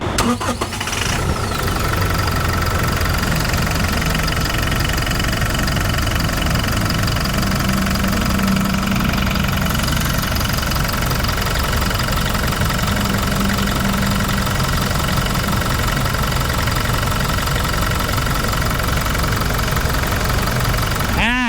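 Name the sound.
pickup truck diesel engine idling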